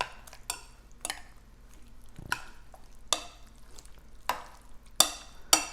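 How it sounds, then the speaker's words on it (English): Utensils clink and scrape as a bowl of tomato salad with pasta and fresh basil is stirred, a series of sharp, close clatters in an uneven rhythm over quiet pauses, with no talking. "All right, so we're gonna stir this up."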